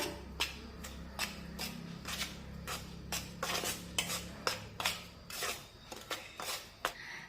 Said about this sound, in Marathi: आता रवा पिठामध्ये व्यवस्थित मिक्स करून घेऊया